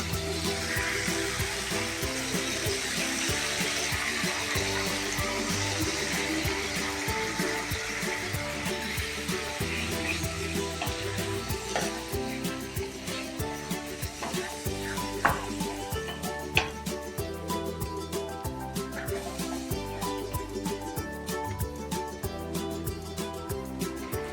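Steady sizzling in a pan with occasional stirring and a couple of sharp clinks, as washed lentils are added to frying spices for millet khichdi; background music plays throughout.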